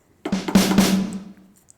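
Two snare hits from a Pyle TED01 electronic drum pad ring out close and loud, the second following quickly, with a bright crack and a lingering tonal body that fades over about a second.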